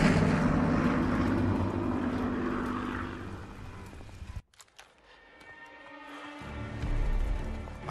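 Enemy bomber aircraft in Call of Duty WW2 drone overhead, a loud low engine roar that fades, cuts out abruptly for a couple of seconds, then returns with a rising rumble.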